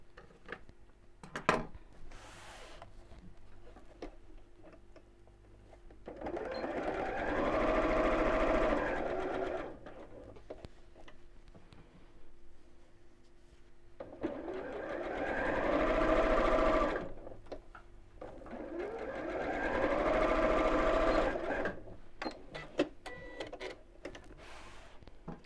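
Domestic sewing machine stitching the right sides of a large tie tote together, three sustained bursts of rapid mechanical whirring separated by quiet pauses with small clicks and handling noises.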